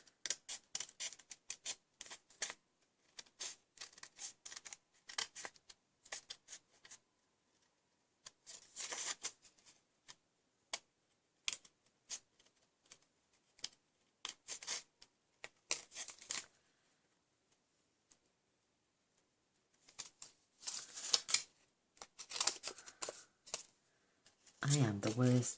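Small snips cut out a heat-embossed paper flower, giving crisp close-up clicks and snips in irregular bursts separated by quiet pauses.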